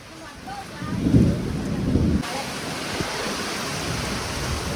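Heavy rain pounds a roof with strong gusting wind and thunder rumbling in a dense, continuous roar, loudest in the first two seconds before settling into a steady downpour.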